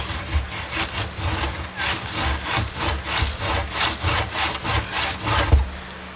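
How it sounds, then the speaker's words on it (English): A leather bracelet is rubbed back and forth across a table, producing a rhythmic series of close, scraping strokes about two per second. "And then I rub it across the table."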